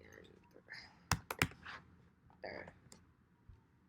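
A few quick keystrokes on a computer keyboard as a command is typed, a short burst of close, crisp taps with quiet shuffling around them.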